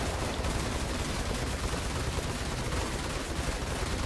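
Ship weapons on the 300i Origin Jumpworks touring ship fire in a game, a dense continuous rattle of rapid shots with no talk.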